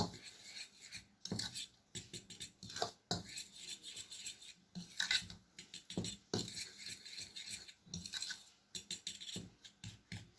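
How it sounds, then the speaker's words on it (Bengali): A fork stirs dry pancake ingredients in a bowl with scratchy, rasping strokes and light metallic scraping, coming in irregular close bursts separated by brief pauses. "সমস্ত গুঁড়ো উপকরণগুলোকে আমি একটি কাঁটা চামচির মাধ্যমে আগে ভালো করে একটু মিশিয়ে নিচ্ছি"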